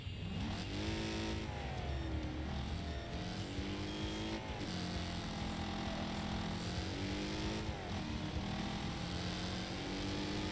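Car engine in the racing video game Wreckfest revving and accelerating, its pitch rising and falling through gear changes over a steady loud drone, with no talk.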